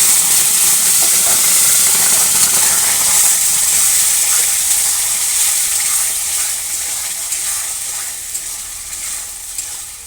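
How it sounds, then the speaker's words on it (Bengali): Squash frying in hot oil with mustard seeds and a dried red chili for a chutney, giving a loud, steady sizzle and hiss that fades only slightly over the stretch. "ভিতরে আমি কোয়াশটুকু ছেড়ে দেবো।"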